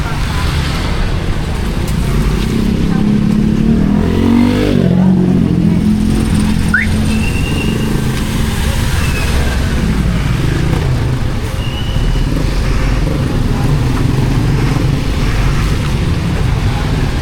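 Dense road traffic rolls steadily through a village street in Noveleta, Cavite during a typhoon, car engines and tyre noise forming a continuous loud wash with a brief horn-like tone midway.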